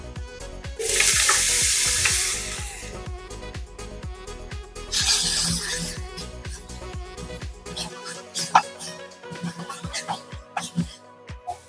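Ginger pieces dropped into hot oil in a pan, giving loud bursts of sizzling and frying hiss that swell and fade, with scraping and clinks of a utensil stirring throughout.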